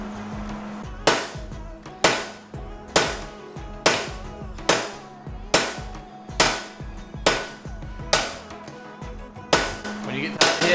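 A hammer pounds sheet metal from a DIY metal rose kit in about ten evenly spaced, loud ringing strikes, roughly one per second, each leaving a brief metallic decay.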